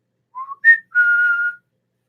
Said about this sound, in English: He whistles a tune to the window.